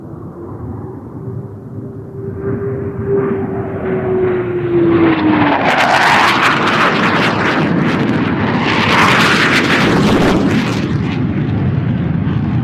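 Type 2 Typhoon fighter jets flying low level through the Mach Loop in Wales, a rising whine that builds into a loud, tearing roar as they pass close, sustained to the end.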